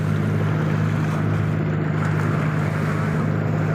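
A motorboat travelling across open water near islands, its engine droning loud and steady with the rush of wind and water, constant throughout with no voices.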